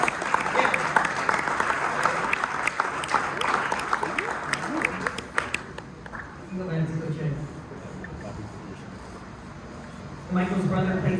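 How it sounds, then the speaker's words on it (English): A banquet crowd claps loudly for a team manager called up to the front. The applause is dense for several seconds, then fades, and people's voices talk over its tail. "Everyone give him a big round of applause"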